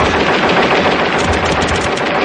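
Gunfire from a robot in the film RoboCop erupts as loud, dense, rapid automatic bursts that fill the whole moment without a break.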